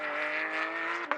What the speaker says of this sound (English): Great sounding V6 as well out the back of that Maserati.